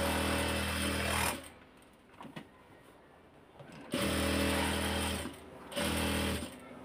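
A sewing machine stitches the georgette back panel of a kameez in three loud, close runs: a long one, a pause with faint handling clicks, then two shorter bursts with a brief gap between them.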